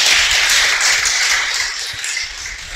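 Church congregation applauding during a Spanish-language sermon, a dense, loud wash of clapping that fills the whole moment and fades slightly toward the end.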